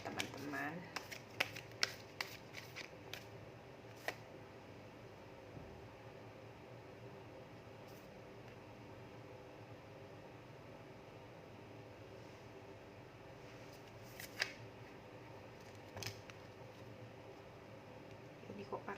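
Tarot cards being shuffled by hand, a run of crisp riffling clicks and flutters clustered at the start and again briefly near the end, close and soft over a quiet room hum with no talk.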